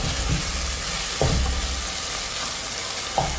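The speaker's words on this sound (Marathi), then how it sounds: "टोमॅटो आता छान सॉफ्ट होईपर्यंत यामध्ये आपल्याला परतून घ्यायचं आहे" Tomatoes and onions sautéing in a pan for pav bhaji make a continuous close sizzle, with three brief louder clatters of stirring spread through it.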